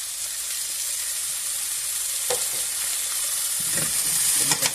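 Sausage, kale and potatoes are stirred in a pot for caldo verde with salt and black pepper, giving a close, steady sizzle with a few scraping knocks and clatters of the spoon toward the end.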